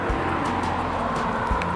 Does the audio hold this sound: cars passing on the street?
yes